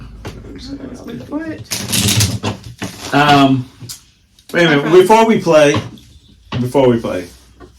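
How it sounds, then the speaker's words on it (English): A deck of cards being riffled and shuffled in quick rattling bursts, mixed in with people talking close by. "I'm just shuffling. we have to shuffle."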